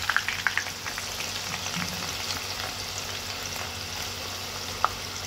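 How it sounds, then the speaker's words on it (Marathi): Crispy bhaji-style fritters dropped into hot oil in a wide kadhai, giving a continuous bubbling sizzle dotted with sharp crackles and pops, close and unbroken by talk. "तर तेल तापलेलं आहे, मी हे पटापट सोडते आणि मग तुम्ही आवाज ऐकू शकता"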